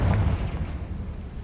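The Confringo blasting spell in the wizarding game Hogwarts Legacy, one heavy booming burst at the start that rumbles and fades into a low decaying tail, close and loud with no talk.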